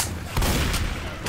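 Rapid gunfire in the zombie shooter Left 4 Dead 2, a dense burst of shots close and loud with sharp cracks near the start, middle and end, over constant game noise.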